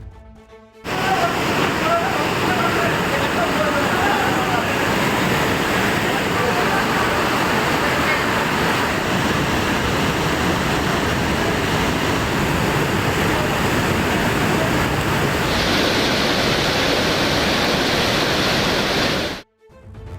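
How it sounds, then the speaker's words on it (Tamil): Panchalinga waterfall at Thirumoorthy Hills near Udumalaipettai roaring in a sudden flood after heavy rain, a dense, loud, continuous rush of falling water filling the whole span. "உடுமலைப்பேட்டை திருமூர்த்திமலை பஞ்சலிங்க அருவியில் திடீர் வெள்ளப்பெருக்கு ஏற்பட்டது"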